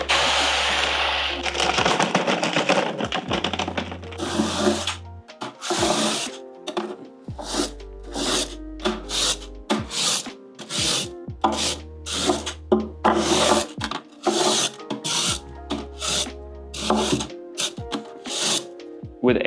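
Moist Tropica aquarium soil pours from a bag in repeated short gritty rushes, a granular rasping that starts and stops in irregular bursts, close and moderately loud with no talk.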